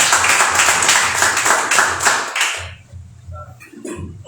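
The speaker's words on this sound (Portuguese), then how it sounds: "Vamos aplaudir o Senhor Jesus Cristo." A church congregation claps together in a loud, even rhythm for about two and a half seconds during a service, then the applause breaks off into scattered faint taps and room noise.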